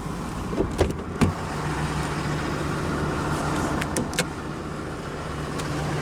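Driver's power window of a 2012 Ram 3500 Laramie Mega Cab 4x4 pickup rolling down, a low steady motor whir with a few clicks and thumps at the start and end, heard over the truck's idling rumble.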